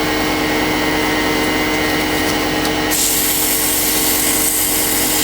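A bocote wood drop pendant spins on a lathe while being sanded with fine grits, giving a loud, steady broadband whir and hiss that shifts tone partway through and continues without pause.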